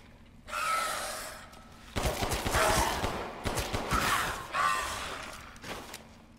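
Gunfire in the horror game Resident Evil Village comes in several harsh bursts of rapid, crackling shots, separated by short pauses, loud and close.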